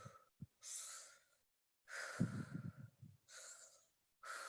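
A group of people breathe in and out together, separate audible breaths with gaps of silence between them, one lower, rougher exhale in the middle, close and quiet with no talking.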